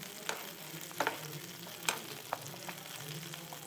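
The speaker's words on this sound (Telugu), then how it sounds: "ఫ్రై కావాలి ఎల్లిపాయలు కొంచెం" Garlic and green chillies fry in oil with a soft, steady sizzle, quiet and close, punctuated by a few light spatula scrapes and taps as they are stirred.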